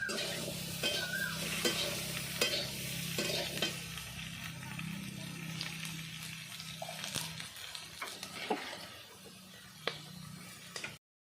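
Bhetki fish sizzles and spits steadily in hot mustard oil, with occasional stirring clicks and scrapes over the continuous frying hiss.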